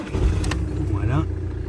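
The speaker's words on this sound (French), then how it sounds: "il faut démarrer la voiture" A car engine runs with a steady low rumble throughout, and people talk over it. A brief rising tonal sweep appears near the middle.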